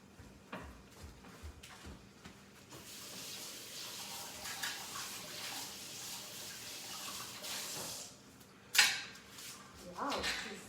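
Tap water runs steadily while food is rinsed under it for a detox recipe, a soft continuous hiss with a brief louder splash near the end and faint handling noises.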